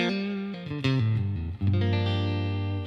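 Electric guitar played through a Dream '65 Reverb amp sim pedal with the treble rolled well back, ringing out as loud sustained chords and single notes with a warm, reverberant tone and no talking.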